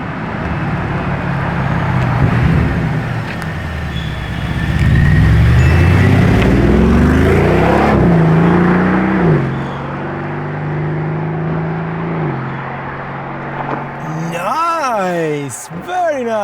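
A matte Lamborghini Urus SE drives past with a deep engine drone that swells and then settles into a steady hum amid street noise, with people talking over it.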